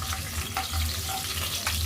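Spices and garlic sizzle in hot oil for a tempering in a village-style prawn and egg curry, a close, steady frying hiss with brief stirring clicks and scrapes.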